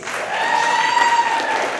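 An audience at a company celebration breaks into dense, steady applause, close and full, holding throughout the short burst.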